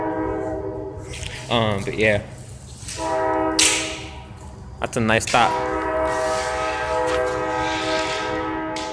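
A passing train sounds its loud horn in long sustained blasts, broken by brief gaps, with rumbling rail noise beneath and a person talking briefly between the blasts near an abandoned building.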